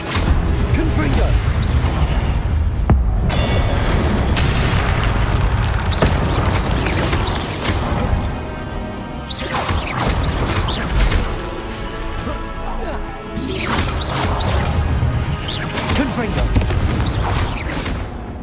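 Repeated Confringo explosion spell blasts in Hogwarts Legacy, heavy booming crashes recurring across the stretch, loud and close, with a voice speaking over the impacts.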